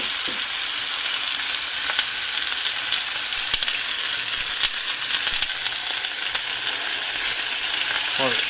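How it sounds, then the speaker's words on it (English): Chicken pieces hit a smoking hot cast iron skillet with a few tablespoons of oil, giving a loud, continuous sizzling hiss dotted with small crackles and pops. "This is going to sizzle immediately."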